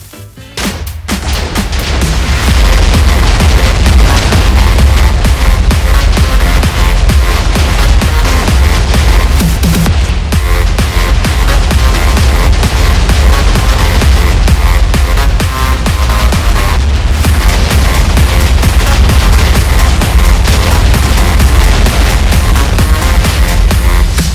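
A long, loud barrage of blasts fills a Minecraft world as TNT blows everything up, dense booming and crackling explosions rolling on continuously without pause.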